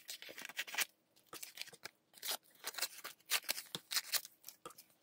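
Scissors snip out small paper circles for a Christmas card, giving quick, close, repeated crisp cuts in irregular bursts with brief pauses and faint paper rustling.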